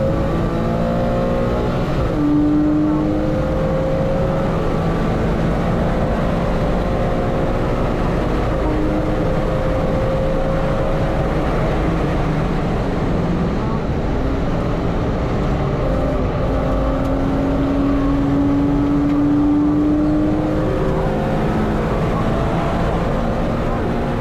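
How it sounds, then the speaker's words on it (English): A Porsche Cayman laps the Silverstone circuit with a steady, loud engine drone inside the cabin, its pitch rising and dipping as the gearbox kicks down, road and wind roar constant throughout. "you're also going to notice a kick down with the gearbox."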